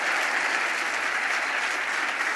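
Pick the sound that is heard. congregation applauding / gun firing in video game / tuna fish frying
congregation applauding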